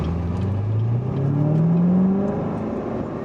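A 2019 Corvette Z06 engine accelerates from the cabin, a loud steady drone with a clearly rising pitch that climbs over about two seconds and then settles.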